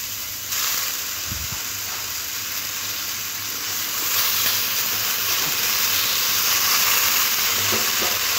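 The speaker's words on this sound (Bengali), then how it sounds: "পালং শাকটাও সবজির সাথে ভালো করে নাড়াচাড়া করে নেব" Chopped spinach stir-frying with mixed vegetables in a hot pan, a loud continuous sizzle and hiss that swells midway, with a few soft stirring scrapes near the start.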